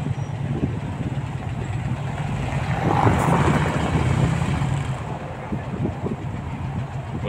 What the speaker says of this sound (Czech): Tady burácí krásná motorka.